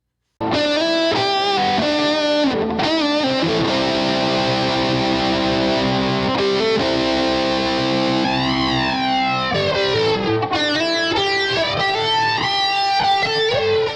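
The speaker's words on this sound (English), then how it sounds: "This is a distortion pedal. It is a symmetrical, hard clipping distortion pedal" A distorted electric guitar through a DOD FX69 Grunge symmetrical hard-clipping distortion pedal plays sustained, crunchy chords and sliding notes, loud and saturated, with no talking.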